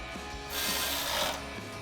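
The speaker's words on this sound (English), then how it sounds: "we're gonna grab our ratchet with our 14mm socket and tighten that down" Ratchet with a 14mm socket tightening a bolt on a Silverado 2500 side step mounting bracket, quick clicking ratchet strokes close up, with one longer rasping burst in the middle.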